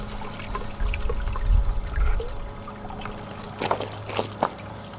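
Water washing pay dirt through a Goldrop gold concentrator, heard as low churning gurgles and splashes that rise and fall, with brief sharper trickling bursts toward the end.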